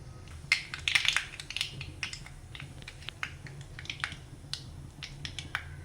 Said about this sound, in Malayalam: കടുകൊക്കെ പൊട്ടി വരുന്നുണ്ട്.